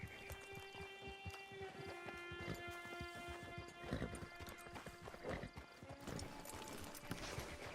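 Horse hooves clip-clop at a steady walking rhythm in the video game Red Dead Redemption 2. The hoofbeats are soft and quiet, with a brief whinny and a sustained musical tone playing underneath.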